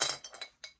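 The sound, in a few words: scissors clinking in a small glass jar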